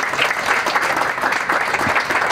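Steady, dense clapping rises from an assembled crowd honoring engineer Salvador Miranda García at the start of construction on a park in Lomas del Refugio, loud and continuous from beginning to end.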